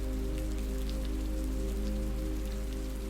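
Steady rain falls on a wooded log cabin with stacked firewood by the door, a continuous, even patter with a low rumbling wash underneath and no voices.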